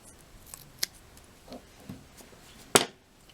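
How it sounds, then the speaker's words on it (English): A few faint snips early on, then one sharp, louder cut of scissors through paper near the end, with quiet pauses between. "And just take your scissors and cut off the excess."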